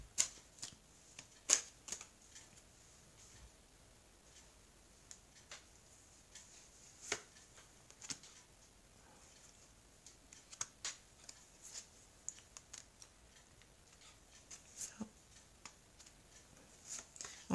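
Oracle of mirrors cards being shuffled by hand, quiet scattered riffling clicks and soft snaps in irregular bursts against a near-silent background.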